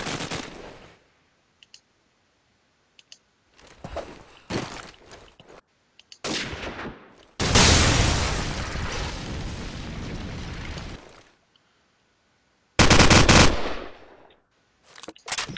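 Gunfire rattles through a Call of Duty 4 ProMod match: scattered single shots give way to a loud, sustained automatic burst and a later heavy volley, with near-silent gaps between exchanges.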